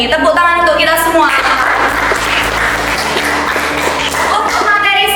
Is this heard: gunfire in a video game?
no